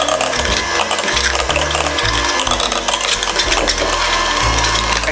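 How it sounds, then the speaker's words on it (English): An electric hand mixer whirs steadily and loudly through a bowl of cream cheese, a continuous motor drone with a grinding texture and no voices. "we're gonna take our electric mixer, our hand mixer, and we're gonna mix this cream cheese around a little bit"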